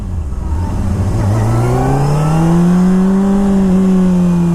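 A 600cc sport motorcycle's engine pulls hard through a wheelie, loud and close, its whine rising steadily in pitch under acceleration and then holding high and steady.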